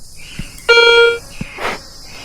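A metal detector set to high sensitivity while fossicking for gold in North Queensland gives a single clear electronic tone lasting about half a second near grass, with a few faint knocks and rustles around it.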